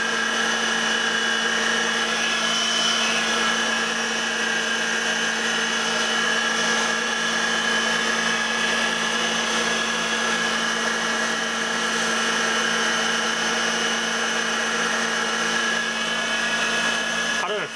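An electric motor driven by a variable frequency drive runs steadily, giving a continuous whine and hum with tonal overtones at constant loudness throughout.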